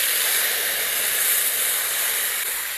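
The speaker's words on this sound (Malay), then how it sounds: "Step mula-mula sekali kita akan tumis benda ni." A steady, loud hiss of chili paste sizzling in hot oil, continuous and close with no talk.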